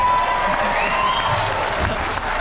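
A crowd at an afternoon gathering applauds with dense, steady clapping and scattered shouts throughout, loud and close, with a voice briefly over it.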